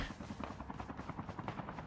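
A helicopter in the Call of Duty Mobile battle royale game, its rotor beating in a fast, steady rhythm, close and continuous over a short stretch with no talking.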